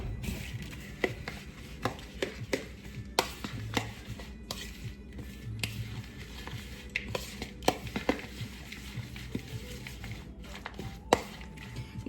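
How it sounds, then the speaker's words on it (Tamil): Melted butter is mixed into ingredients in a bowl for oatmeal mango cheese cupcake batter; a spoon taps and scrapes against the bowl in irregular, fairly quiet clicks over a soft background hum, no speech. "இதை நல்லா மிக்ஸ் பண்ணணும்."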